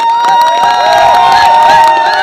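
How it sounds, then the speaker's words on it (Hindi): Loud crowd at a network marketing event claps and cheers, with sustained tonal music or shouting layered over dense applause throughout. "जोरदार तालियां everyone"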